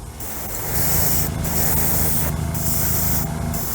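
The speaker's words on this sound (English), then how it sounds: "Test spray, spraying out good." A spray gun atomizes white Autoborn sealer onto a taped-off diecast truck, giving a steady close hiss with a few brief breaks in the spray, and no talking.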